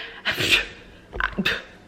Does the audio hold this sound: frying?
no